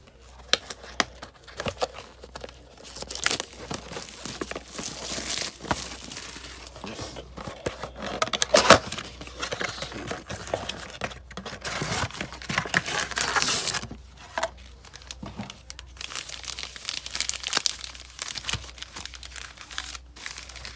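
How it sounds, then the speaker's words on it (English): A blaster box of Panini 2020-21 Illusions basketball trading cards and its packs being torn open, with close, continuous crinkling and ripping of wrappers and cardboard, irregular bursts, no speech. "Now we'll open up this little blaster box."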